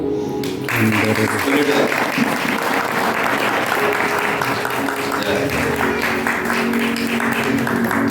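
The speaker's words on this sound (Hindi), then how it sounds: "ताली बजाओ" A congregation claps together during a deliverance prayer at a church service, steady dense applause mixed with crowd noise and voices throughout.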